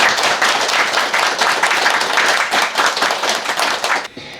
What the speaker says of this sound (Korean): 여러분도 그런 마음이시라면 박수 한번 부탁드립니다.